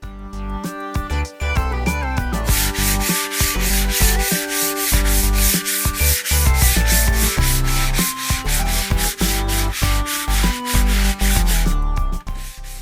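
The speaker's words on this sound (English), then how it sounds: "Remember to change the angle and direction at which you sand periodically" Sanding filler on a rusted Mazda Miata MX-5 rocker panel repair: steady, loud scratchy rubbing strokes in a continuous back-and-forth rhythm, close up with no talking.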